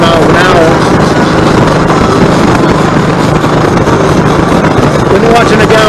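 A Kawasaki Vulcan Voyager 1700 motorcycle with Cobra exhaust cruises at about 90 mph, its engine drone buried in heavy, constant wind roar across the microphone, loud and unbroken from start to finish.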